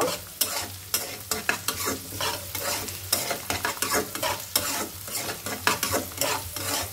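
Onions frying in a pan until light brown for a fish curry, with steady close sizzling and repeated scraping clicks of a spatula stirring throughout.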